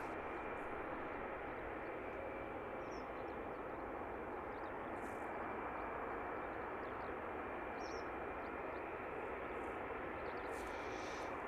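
A DHL Airbus A300 departs from London Luton Airport, its steady, dense engine roar filling the air continuously at some distance, with faint bird chirps breaking through above it.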